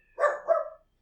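A small dog gives a short two-part bark, loud and close, then goes quiet.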